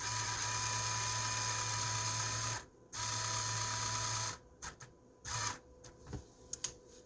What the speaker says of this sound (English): I still hear like a little grinding or something.